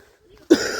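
A single sharp cough from someone with a cold, sudden and close after near silence, followed by a short breathy tail.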